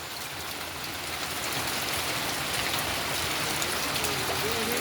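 Steady rain falling in Pavthi village, Talaja, Bhavnagar, a dense even wash of drops on surfaces that grows slightly heavier, with faint voices in the background.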